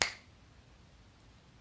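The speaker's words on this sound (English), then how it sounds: "And I snap my fingers because it's like a switch." A single sharp finger snap at the very start, crisp and close, then fading into quiet room tone.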